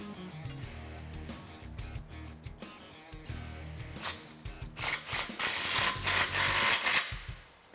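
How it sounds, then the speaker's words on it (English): A hand ratchet clicks steadily while tightening an exhaust pipe clamp on a Mustang GT cat-back system, rapid close clicking strokes that grow louder and denser toward the end. "now we can take that clamp and tighten her down"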